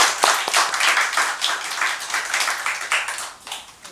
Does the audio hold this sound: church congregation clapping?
yes